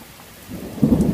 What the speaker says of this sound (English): it's raining super hard